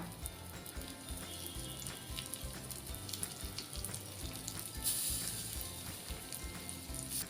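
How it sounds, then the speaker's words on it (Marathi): Surmai (rawas) fish pieces frying in oil on an iron tawa over medium heat, giving a steady, fairly quiet sizzle and crackle throughout with no talking. "आता हे एक एक पीस आहे आपण तेलावर फ्राय करून घेऊया"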